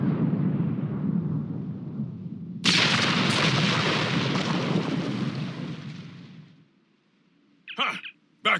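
A large rock-blasting explosion in the video game Star Trek Online: a low rumble builds, then a loud roaring blast bursts in and slowly fades, followed by brief crackling debris bursts.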